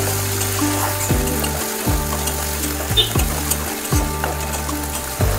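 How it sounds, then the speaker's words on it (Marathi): Ground raw coconut masala paste with curry leaves sautéing on low gas for a Maharashtrian brinjal-potato rassa, a constant close sizzle with occasional stirring scrapes, no talking. "आणि वाटून घेतलेलं मिश्रण टाकायचं आहे। छान परतून घ्यायचं आहे।"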